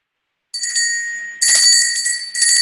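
A shamanic bell rings out bright and sustained after a brief silence, struck two more times so that the clear metallic tones overlap and linger loudly.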